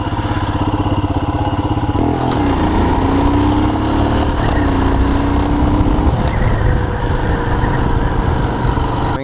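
A Royal Enfield Himalayan motorcycle rides with a loud, steady single-cylinder thrum close by, its pitch shifting as it shifts gears and accelerates, with wind noise and no talking.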